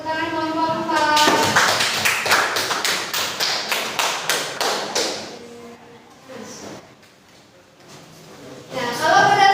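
A school class applauds a student group, a rhythmic run of loud, close, separate claps, about two a second, that fades after six seconds into quiet before a voice speaks at the end.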